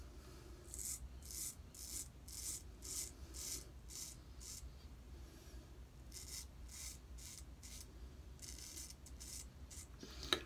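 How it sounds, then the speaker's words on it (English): Vintage Wade & Butcher straight razor scraping through stubble during a shave, heard up close as a series of short, even raspy strokes in a steady rhythm with no talking. "it's absolutely shaving just beautifully"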